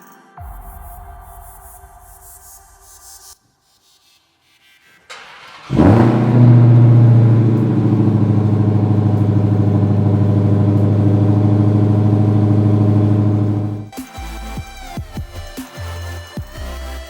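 A car engine cold-starts after a silent pause, catching with a sharp bark and settling into a loud, steady high idle that lasts several seconds before cutting off.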